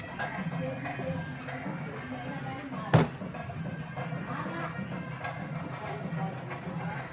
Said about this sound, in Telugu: టపాకాయలు చూసారు ఎలా పేలుతున్నాయో